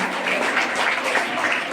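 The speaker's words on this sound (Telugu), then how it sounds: "మీరందరూ కూడా ఇద్దరికి మీ చప్పట్లతో వాళ్ళని ఆనందపరచాలని కోరుతున్నాను" Audience applause for award winners at an AIDS awareness event, a steady wash of many hands clapping at moderate volume, continuous and unbroken for the whole moment.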